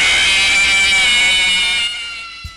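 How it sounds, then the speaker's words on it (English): The Music Man jump scare from the Five Nights at Freddy's game: a loud, harsh, buzzing screech held steady for about two seconds before cutting out abruptly. "This is the Music Man's jump scare."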